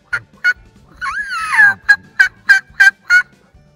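A diaphragm turkey call played by a person imitates a young turkey's kiki run, with sharp chirping notes, a rising and falling whistled run, then a series of evenly spaced yelps, loud and close with no talking.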